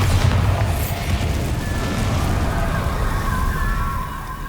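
A Bombarda spell explosion in the Hogwarts Legacy video game booms with a deep, sustained rumble that starts loud and stays heavy for several seconds, trailing off slightly at the end.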